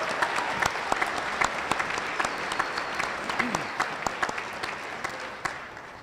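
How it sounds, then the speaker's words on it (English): A crowd at a high school commencement ceremony applauds steadily, with individual sharp claps standing out over the wash and a brief whistle or cheer partway through. "Go ahead and applause, yes."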